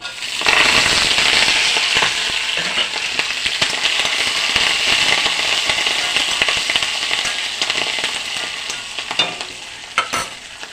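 Ginger, green chillies and curry leaves frying in hot oil for an old-style banana flower curry, giving a loud, continuous sizzle with sharp crackles and pops, close and steady throughout.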